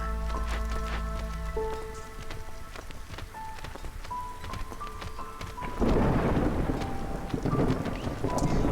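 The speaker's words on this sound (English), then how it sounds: "That sound means we're almost at the storm." An approaching storm in the video game Against the Storm rumbles with deep thunder over steady heavy rain, faint musical tones sounding beneath, the downpour and rumble swelling louder toward the end.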